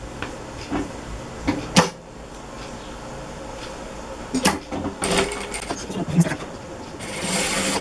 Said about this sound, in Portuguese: Vou fazer uma costura pé de máquina aqui nessa beiradinha.